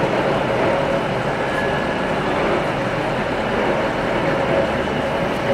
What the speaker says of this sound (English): our final train of the day will be 15112 for service bound for Wigan Walgate